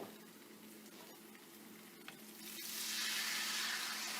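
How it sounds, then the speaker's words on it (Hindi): Pork-trotter yakhni broth comes to a boil over high heat, a steady bubbling hiss that builds and grows louder halfway through, with no talking. "ये हाई हीट पे रख लिया है और इनको बॉईल आ गया"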